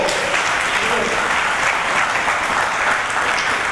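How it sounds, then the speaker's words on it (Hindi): A dense, steady round of applause from a seated crowd at a Jain religious discourse, continuous and loud for the whole stretch with no distinct voices on top. "ताली बजा अच्छे से"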